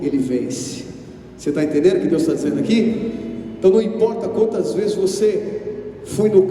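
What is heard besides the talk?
No everyday noise stands out behind the speech.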